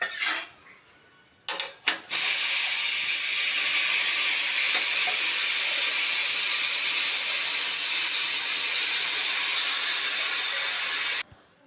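Steam hisses steadily out of a pressure cooker's vent once its whistle is lifted off, with mutton cooking inside. A few brief clicks come first, then a loud, even, continuous hiss that holds for about nine seconds and cuts off abruptly.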